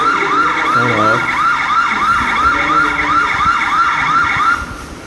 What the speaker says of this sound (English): That's why the alarm is actually on.